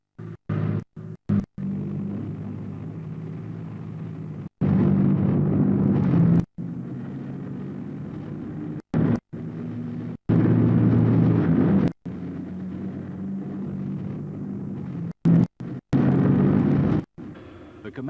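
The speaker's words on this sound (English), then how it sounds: "the Leopards rumble forward." Leopard tanks rumbling forward in an armoured assault, a low, heavy engine drone broken by abrupt cuts and bursts of louder roar.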